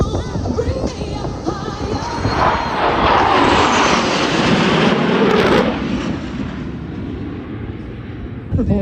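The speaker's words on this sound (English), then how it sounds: "Performance of the F-16 with the maximum performance turn." An F-16 fighter jet flies a maximum performance turn at an airshow, a loud roaring rumble that swells to a peak and then fades as it passes, with outdoor crowd noise underneath.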